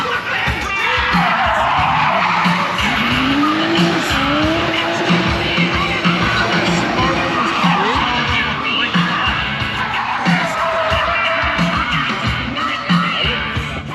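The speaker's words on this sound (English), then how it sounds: "that was a Mark 1 Golf drift car there" A Mark 1 Golf drift car screeches its tyres around the drift pan at the Gravity Show at NEC Birmingham, with long, wavering squeals over engine roar and occasional shouts from onlookers.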